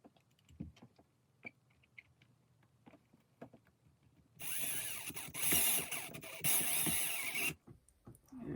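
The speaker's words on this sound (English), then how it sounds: "We're going to go ahead and screw these down." A small powered screwdriver drives screws into a DeAgostini 60 cm Godzilla R/C model kit, loud whirring bursts of about three seconds following quiet handling clicks.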